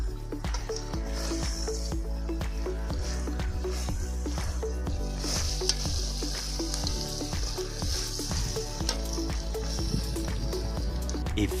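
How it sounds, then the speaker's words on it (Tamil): Varamilagai chicken with dried red chillies and turmeric fries in a pan, a close, continuous sizzle with wet bubbling and occasional soft stirring clicks, and no voices. "மிக்ஸ் பண்ணி விட்டு இதை ஒரு 5 7 நிமிஷம் நல்லா வேக விட்டுறலாம்"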